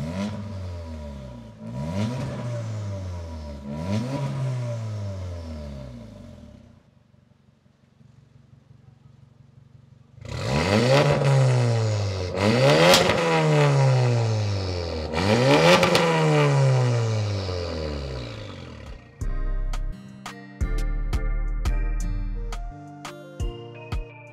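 Tuned Audi S1 stage 4 with an Armytrix exhaust, revving hard in repeated rising and falling sweeps: three loud blips, a quieter idle, then three more aggressive revs, followed by sharp crackling pops near the end.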